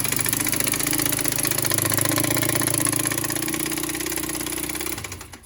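A 2008 Kawasaki Bayou quad idles close by with a steady, even engine drone, then cuts out abruptly near the end.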